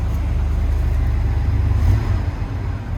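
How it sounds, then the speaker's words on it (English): Engine of a 1978 Ford F-250 4x4 pickup with an electric choke idling close by, a steady low rumble that swells slightly and then settles as the idle drops; no talking. "just hear how that idles down when I do that"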